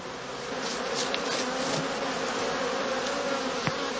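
A dense swarm of honeybees drones around a straw skep hive on open heathland, a loud continuous buzzing with individual bees passing close now and then.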